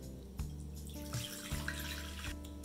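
Water pours steadily into a mixing bowl for homemade bread dough, a continuous close splashing stream with faint kitchen hum underneath, no one talking.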